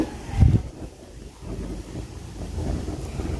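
Outdoor wind buffets a microphone on a sunny day, giving a steady low rumble with a stronger gust near the start and a rise again toward the end.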